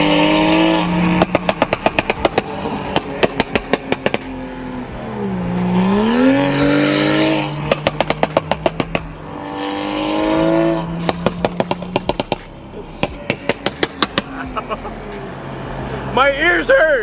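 A BMW F32 435i on an E85 flame tune revs repeatedly, loud and close, with rapid popping crackles between sweeping rises and falls in engine pitch, while people talk over it.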